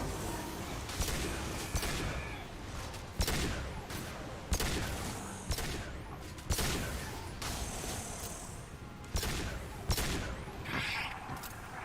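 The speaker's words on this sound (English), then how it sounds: "Stop firing at me, idiot!" Gunfire in Mass Effect 2, a series of sharp, loud shots and bursts roughly every second or so, each punching out over a steady background rumble of battle.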